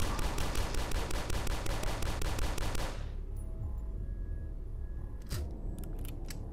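Gunfire from the game DUSK comes as a fast, steady stream of close, loud shots for about three seconds. A few sharp isolated shots follow near the end.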